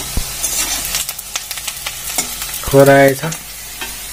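Onions frying in a pan for a chicken dish, cooked at night in a village kitchen, crackle steadily while a spoon clatters and scrapes. A voice speaks briefly partway through.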